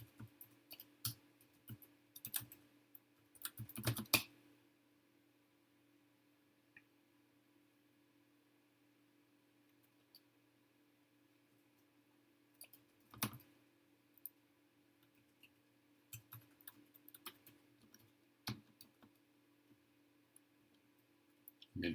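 C code being typed on a computer keyboard, with sparse, scattered key clicks and a few short flurries of taps over a faint steady hum, separated by long quiet gaps.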